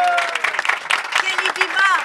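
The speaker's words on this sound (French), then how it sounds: "que je vous demande d'applaudir" Audience applause at an election victory speech in a hall, scattered clapping mixed with crowd murmur and whistles.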